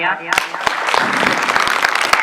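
A small audience at a youth group quiz competition claps for a correct answer, a burst of close, sharp, uneven handclaps starting abruptly after a voice and going on steadily.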